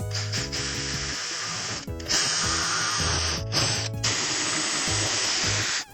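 A Dremel rotary tool carves wood for a custom box, whining steadily in close, loud bursts with a few short pauses between passes and no talk.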